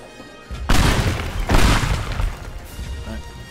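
Two loud, booming video game explosions at a chemical plant, about a second apart, each bursting suddenly and then rumbling away, with a crackling tail fading out after the second.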